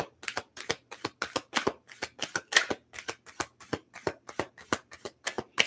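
Tarot cards are shuffled in a steady rhythm of crisp riffling bursts, about three per second, close up and with no talking.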